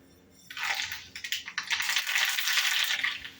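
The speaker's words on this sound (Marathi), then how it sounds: "राई छान तडतडली" Mustard seeds crackling in hot oil for a tempering, a burst of dense popping and spitting sizzle that starts suddenly, pulses with sharp crackles, then settles into a loud continuous fizz.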